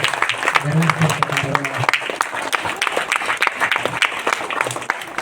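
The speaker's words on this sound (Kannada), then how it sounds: "ಎಲ್ಲರ ಜೋರಾದ ಚಪ್ಪಾಳೆಯ ಮೂಲಕ ಈ ಒಂದು ಉದ್ಘಾಟನಾ ಕಾರ್ಯಕ್ರಮವನ್ನು" A crowd at a government school's first-standard classroom inauguration claps in a dense burst of applause, with a voice speaking over the clapping.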